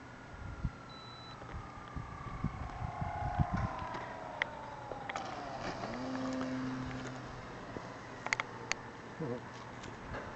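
A Hobby King 1400 mm J-3 Cub RC model plane flies just after takeoff, its faint, distant motor whine drifting and sliding in pitch as it passes, over quiet outdoor background with scattered soft knocks.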